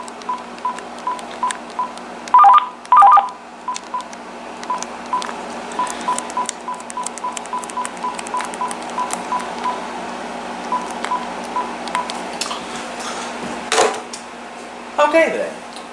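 Keypad button tones from a Uniden TRU8885-3HS cordless phone handset beep in two quick pairs early on and once more near the end, over steady low background hum and faint clatter.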